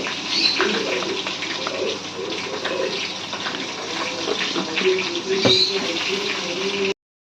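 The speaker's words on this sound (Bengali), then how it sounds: "এর মধ্যে অল্প পরিমাণে জল অ্যাড করে দিচ্ছি আমরা।" Water being poured into a bowl of Kashmiri chili powder, coriander powder and turmeric for a Bengali fish curry spice paste, a steady close trickle and splash running for several seconds before stopping abruptly.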